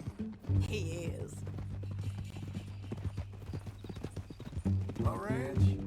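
Hooves of a horse on a Red Dead Redemption 2 ranch clop in a steady rhythm under a conversation between two men, with a brief whinny near the end.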